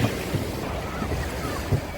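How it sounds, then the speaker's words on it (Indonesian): Ocean surf rolls steadily along Cilacap beach, a continuous wash of waves with gusts of wind buffeting the microphone and a few low thumps breaking through. "ombaknya nggak seperti gede kayak di Pangandaran ya"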